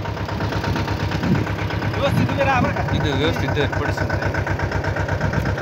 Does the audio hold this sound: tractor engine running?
yes